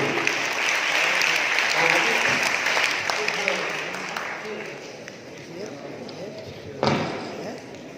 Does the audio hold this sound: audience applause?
yes